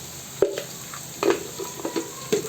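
Onion, green chilli and ginger-garlic paste fry in a pan for goat blood curry, with soft background sizzle broken by a few short stirring scrapes and clinks of a spoon against the pan.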